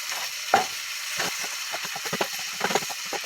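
Seasoned ground turkey, with onion powder, garlic, herbs, ginger and turmeric, sizzles steadily in a pan, a constant hiss broken by scrapes and stirring clatters of a utensil.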